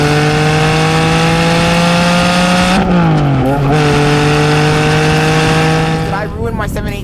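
A Porsche 718 Spyder fitted with linking pipes in place of its gas particulate filters runs loud and close, a strong steady exhaust drone with brief pitch dips as the revs shift, ending with a rising rev.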